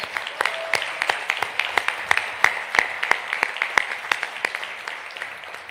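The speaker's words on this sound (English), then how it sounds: "Let's give them a round of applause." Audience applause at a five-year anniversary celebration event, a modest crowd of individual sharp claps at moderate level, steady and continuous before slowly thinning toward the end.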